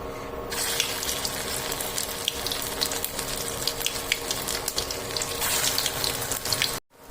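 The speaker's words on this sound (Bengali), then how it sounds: "চপগুলো যখন ভেজে প্রায় ভাজা হয়ে গেছে" Vegetable chops deep-frying in oil make a continuous bubbling crackle with scattered sharp pops. It stays fairly even and close, then cuts off abruptly near the end.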